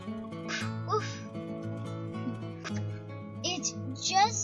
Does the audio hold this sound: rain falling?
no